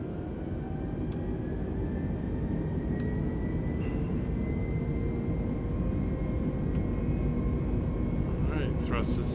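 Airbus A320neo jet engines spooling to takeoff thrust on departure from Southampton, a loud, steady roar with rising whine over constant rumble, with cockpit voices calling out briefly near the end.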